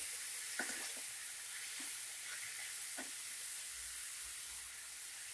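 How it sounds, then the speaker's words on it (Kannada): Mushrooms frying in oil in a pan for a tomato mushroom gravy, a steady close sizzle with a few soft stirring scrapes and clicks, no voices. "ಎರಡು ನಿಮಿಷ ಎಣ್ಣೆಯಲ್ಲೇ ಚೆನ್ನಾಗಿ ಫ್ರೈ ಮಾಡ್ಕೊಳ್ಳಿ ಮಶ್ರೂಮ್ನ"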